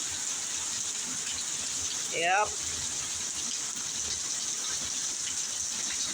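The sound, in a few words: heavy rain pouring down outside a porch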